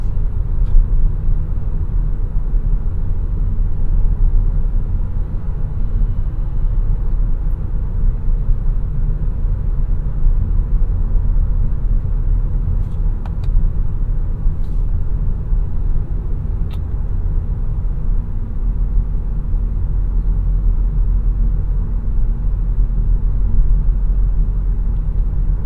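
Inside a 2022 Volkswagen Taos on the road with a 7-speed dual-clutch transmission, a steady low rumble of road and engine noise runs throughout with no change in level, broken only by a few faint clicks.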